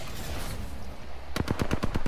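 Rapid gunfire in the Apex Legends video game, a burst of about eight sharp shots fired in quick succession after a quieter stretch of ambient game noise.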